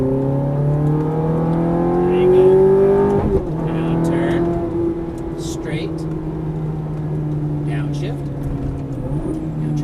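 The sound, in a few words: Ferrari F430 or Nissan GT-R accelerating on track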